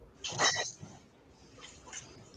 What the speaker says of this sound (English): it sounds like these snarls and roars and growls are animal-like, and they are getting closer